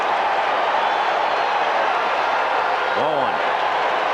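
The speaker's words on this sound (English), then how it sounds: "Boy, this crowd came here to make some noise tonight." A packed Shea Stadium crowd at Game 6 of the 1986 World Series between the Red Sox and Mets makes a constant loud roar, with a broadcast announcer talking over it.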